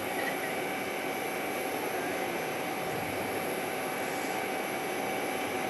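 An aircraft at Phoenix Sky Harbor International Airport gives a steady, broad roar that holds at a constant, fairly loud level throughout, with no clear rise or fade and no voices.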